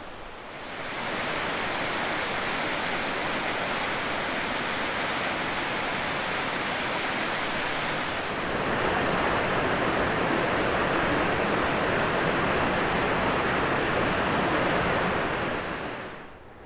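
Grizzly Falls in Kings Canyon National Park roars as a steady, dense wash of falling water, loud and unbroken, with the tone shifting slightly partway through and no voices.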